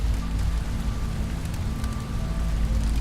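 Steady rain from a survival video game pours down on surfaces, a dense, continuous hiss with a low rumbling undertone and no pauses.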